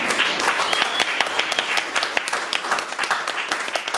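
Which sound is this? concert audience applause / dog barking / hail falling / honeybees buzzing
concert audience applause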